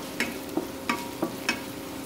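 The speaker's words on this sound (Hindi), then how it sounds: "सबसे पहले इसमें हम हरी मिर्ची डालेंगे, ये जो हरी मिर्ची काट के रखा था हमने ये डाल देंगे।" Chopped green chillies fry in a pan under a steady low sizzle, with a utensil scraping and stirring in an even rhythm about every third of a second, close and with no talking.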